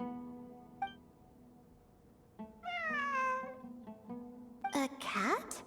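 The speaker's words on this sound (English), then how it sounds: "I'm not hearing things. It really is a cat." A cat meows in Genshin Impact during ruins exploration, with a couple of clear, rising-and-falling meows, one in the middle and another near the end, against quiet background music.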